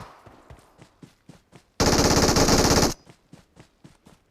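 Battle royale video game gunfire: a loud sustained burst of automatic fire lasting about a second, bracketed by a series of sharp, evenly spaced single shots before and after.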